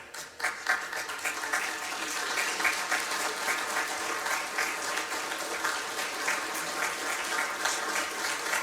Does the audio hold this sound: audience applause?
yes